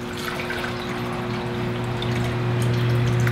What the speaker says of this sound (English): let's pour that, pour some in here